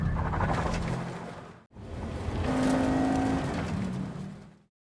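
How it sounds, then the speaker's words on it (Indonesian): A police car tears along in a film car chase, its engine roaring loudly and continuously with a brief cut partway through, then a steady whine while it races on until a sudden stop. "Mason dan Jesse berhasil pergi menggunakan mobil polisi, tapi sayangnya mereka langsung dikejar oleh workman."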